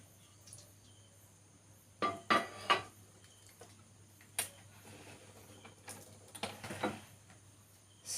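A dosa griddle is set onto a kitchen stove with a few sharp metallic clanks and knocks, quiet and close, spread out among softer handling sounds.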